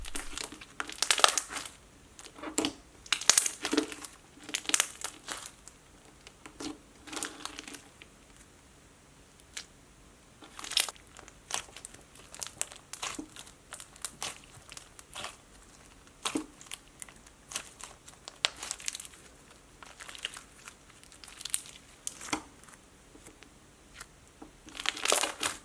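Crunchy marshmallow foam slime squeezed and pressed by hand, giving irregular close crackling and crinkling pops in uneven bursts over a quiet background.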